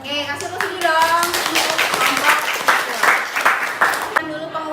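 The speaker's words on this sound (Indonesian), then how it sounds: "Oke, kasih tepuk tangan dong." A school class clapping hands together in a room, a burst of distinct, quick claps over a few seconds, with children's voices and a teacher speaking at the start.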